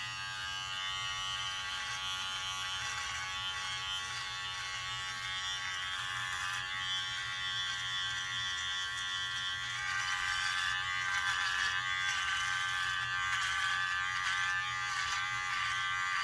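A Wahl Wet & Dry electric shaver runs steadily at close range, a continuous bright buzz that holds for the whole stretch and grows slightly louder toward the end.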